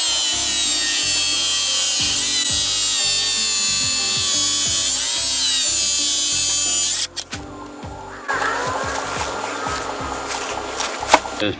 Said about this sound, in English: Shave it down with a belt sander, just a little less angle on it.